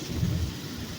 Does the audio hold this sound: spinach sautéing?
no